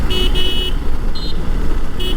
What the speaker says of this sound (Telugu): హారన్ కొట్టుకుంటూ వెళ్ళాలి.